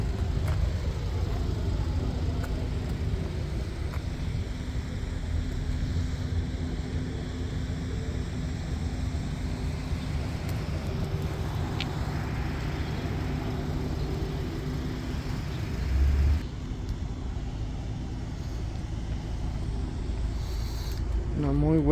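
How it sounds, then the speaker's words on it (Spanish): A 2021 Audi Q2 Sport engine idles smoothly, a steady low hum that runs close by and continuously with a faint broadband background wash throughout. "El motorcito sonando suave."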